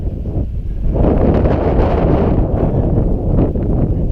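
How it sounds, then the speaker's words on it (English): Wind gusts blowing steadily through a narrow canyon in South Canyon, Marble Canyon in the Grand Canyon, as a loud, broad rushing roar that swells after the first second and holds with buffeting on the microphone. "Breezy in here, it's kind of nice."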